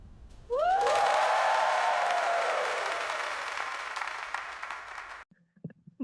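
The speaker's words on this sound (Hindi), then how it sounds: "हॉल तालियों से गूंज उठा" Applause and cheering fill a hall, opening with a rising whistle, then holding a dense crowd roar for about five seconds before cutting off sharply.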